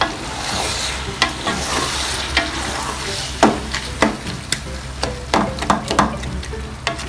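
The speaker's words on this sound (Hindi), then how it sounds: "अब इस स्टेज पे ना हमने इसमें टमाटर डाल देने हैं।" Half a kilo of tomatoes frying with browned onions in a pot for chicken tikka biryani. A steady loud sizzle runs throughout, broken by repeated scraping knocks of a stirring spoon.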